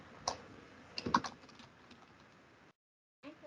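Quiet keystrokes on a computer keyboard as a study title is typed in, a brief burst of clustered clicks followed by a few scattered taps before a short silence and a single further tap.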